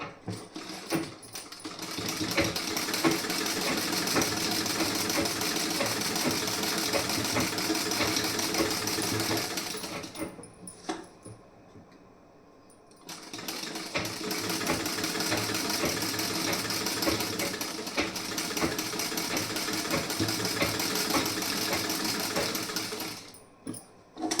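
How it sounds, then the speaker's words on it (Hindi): A sewing machine runs steadily while stitching the side seam of a blouse, a loud continuous mechanical whirr that stops briefly about halfway through and then resumes just as loud until the end. "साइड में भी आपको उसी तरीके से स्टिचिंग करनी है।"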